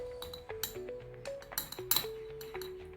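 A metal spoon clinks repeatedly against a glass of warm water, a quick irregular series of bright pings and chimes, close and fairly loud, with no one talking.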